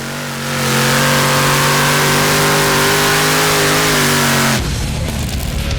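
A pulling tractor at a Danish championship round in Hjallerup revs hard and loud, its engine note holding steady for several seconds before cutting off abruptly, leaving a rougher, fainter rumble.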